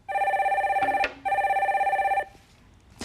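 Telephone ringing on a radio call-in show as the next caller is put through: two loud, steady electronic ring bursts with a short gap between them, close and clear, with no talk over them.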